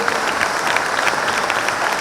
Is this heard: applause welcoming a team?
yes